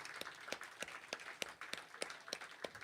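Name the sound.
audience applause at a live songwriter show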